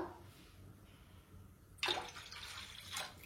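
Water pours into a pot for boiling pasta, a brief splashing gush starting partway through after a quiet start, close by, with a second short splash near the end.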